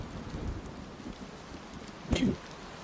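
Rain sounds play from a web browser, a soft, steady hiss of rainfall with faint patter and a brief low thunder-like rumble near the end.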